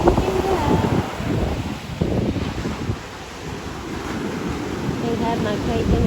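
Ocean waves washing onto the shore with steady gusts of wind buffeting the microphone, a continuous loud rush that dips briefly before building again.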